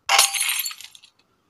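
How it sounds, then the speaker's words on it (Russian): Window glass shatters in a video game, a single loud crash followed by tinkling shards that quickly fade to silence. "я хочу проверить, как сосед реагирует на разбитые окна"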